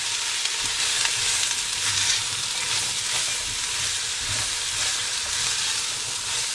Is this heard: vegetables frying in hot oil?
yes